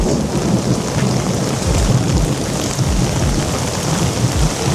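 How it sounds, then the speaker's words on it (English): A Miami thunderstorm with steady heavy rain and rolling low thunder, loud and continuous throughout, with no voices. "Miami storms."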